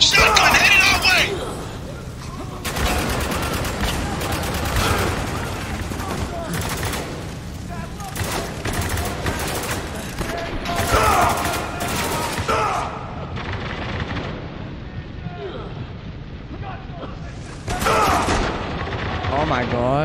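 Rapid bursts of shotgun and automatic gunfire in the Spec Ops: The Line shooter game, repeated loud blasts over a noisy combat background with shouted voices mixed in.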